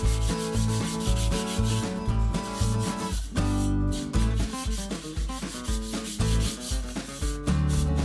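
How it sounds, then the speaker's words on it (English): Hand burnishing mica and foil, heard as rapid rhythmic rubbing strokes, loud and close, repeating steadily without pause and with no talk. "And full hand burnish."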